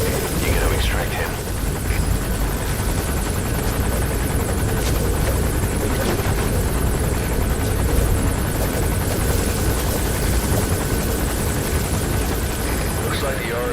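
A helicopter in a Metal Gear game, the arms dealer's patrol chopper, roars continuously with dense rotor chop and engine hum, loud and near from start to finish.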